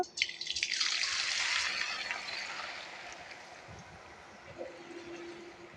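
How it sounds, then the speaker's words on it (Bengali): Shredded potatoes for jhuri aloo bhaja dropped into hot oil, a loud burst of bubbling sizzle that swells at once and then slowly settles into a softer, steady frying hiss. "তেলটা গরম হয়ে গেছে তেলের মধ্যে দিয়ে দেবো এখন ঝুরঝুরে আলুগুলো"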